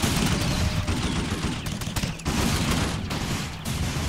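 A Browning Automatic Rifle fires in the Running With Rifles video game, with dense, sustained automatic bursts and short gaps between them, loud and close, with no talk over it.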